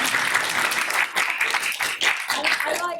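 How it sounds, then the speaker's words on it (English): Listeners at an academic research talk give a short, lively round of applause, many hands clapping together up close and then thinning out toward the end. "I think a round of applause for each speaker as they're introduced."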